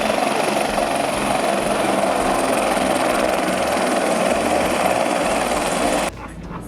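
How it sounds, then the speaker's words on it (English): A Life Flight medical helicopter flies over the Coeur d'Alene air expo at Pappy Boyington Field, a loud, steady rotor and engine roar that holds for about six seconds, then drops off sharply. "that's the Life Flight helicopter"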